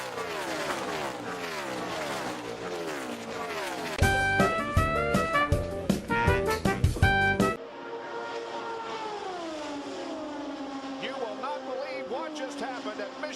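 NASCAR race cars race at Chicagoland Speedway, their engines sweeping up and down in pitch as they roar past. A harsher, louder stretch sits in the middle, and a commentator talks over much of it.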